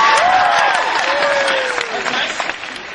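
Audience applause and cheering from a crowd at a Harvard commencement, a loud continuous wash of clapping that slowly fades, with a voice rising faintly above it.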